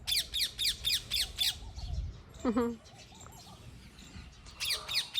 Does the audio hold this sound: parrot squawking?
yes